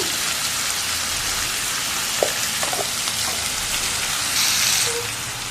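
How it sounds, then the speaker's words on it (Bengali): Tomato frying with spices in a pan gives off a steady, close hiss of sizzling oil with a few soft clinks near the end and no talking. "একটু ভেজে নিতে হবে টমেটো"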